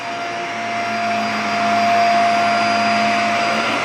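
A Fantom Capture Machine vacuum cleaner runs continuously at close range, a loud steady motor whine with a constant airflow roar and a slight swell in intensity midway, no voices.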